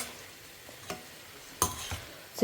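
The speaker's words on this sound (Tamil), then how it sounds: "தேங்காய் துருவல் ஆட் பண்ணி ரொம்ப நேரம் வதக்க வேண்டாம்." Grated coconut sautéing in a pan for a garlic thokku, giving a soft, low sizzle with a few brief spatula scrapes against the pan; quiet and fairly close, with no talking.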